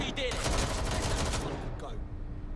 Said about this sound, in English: We got gunfire!